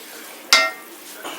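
A single sharp scrape of a utensil stirring Brussels sprouts and bacon in a sweet brown sugar and wine glaze, close and clear, with a faint sizzle before and after.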